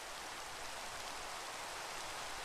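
Rain falls in a steady, even hiss that fills the whole stretch, with no voices and no gaps.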